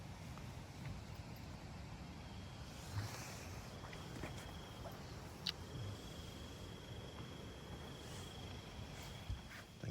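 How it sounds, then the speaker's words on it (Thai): Strong wind buffets a hillside campsite near Nan, Thailand, on a motorbike road trip, a steady low rumble with occasional gusty bumps, while insects chirp faintly in the background; no one speaks. "ลมแรงมากเลย"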